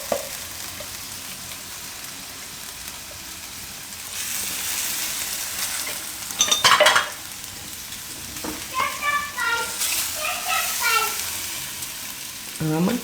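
Potatoes with spices being stirred in a hot pan for Gujarati dum aloo, giving a soft, steady sizzle with louder scraping bursts of the spoon against the pan, fairly close and moderately quiet.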